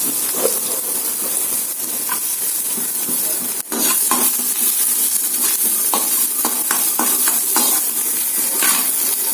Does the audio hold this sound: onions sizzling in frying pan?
yes